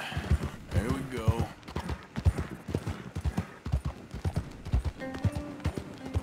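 Horse hooves gallop in Red Dead Redemption 2 in a rapid, repeated clip-clop rhythm. The hoofbeats sound close and steady, with someone speaking over them.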